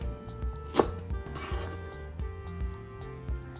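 A knife cuts lemongrass stalks diagonally on a board in steady repeated chops, close and moderately loud, with no talk.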